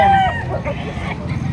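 A fighting rooster at a rooster market gives a brief, loud crow right at the start, followed by busy crowd noise.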